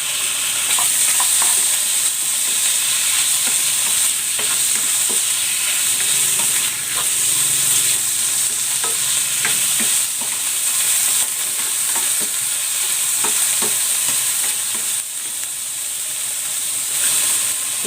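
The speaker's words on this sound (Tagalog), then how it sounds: "Igisa ko na dito itong chicken." Chicken sautéing in a pan for scallion chicken soup, a loud continuous hissing sizzle with light stirring clicks and scrapes throughout, no talking.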